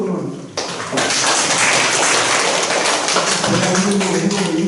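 Attendees at a Wanju County meeting break into applause, a loud, close, dense patter of many hands clapping that continues steadily for several seconds after a brief spoken moment.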